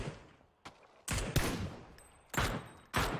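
Gunfire in the battle game PUBG: a few sharp, loud shots and short bursts crack out at irregular intervals, with brief pauses of quiet between them.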